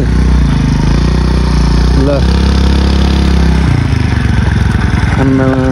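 A scooter engine runs near and fairly loud while being maneuvered into a parking spot, a steady motor drone with clattering, heard under loud ongoing talk and background noise.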